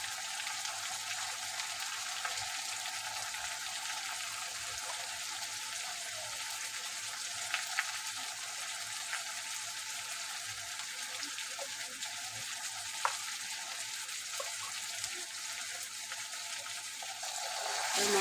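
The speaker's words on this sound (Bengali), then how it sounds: "আর মশলাটাকে ভালো করে কষিয়ে নেব" Mutton masala sizzling as it fries in a pan, a constant hissing crackle with occasional small pops, fairly soft and steady throughout, no voices.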